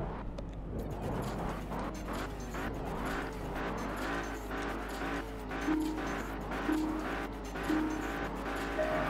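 Race cars line up and pull away at the start of a 1.4-mile, three-lap race in the video game Test Drive Unlimited, with engines revving and rising in pitch, repeated gear-change whines and occasional tire squeal, held at a steady moderate level throughout.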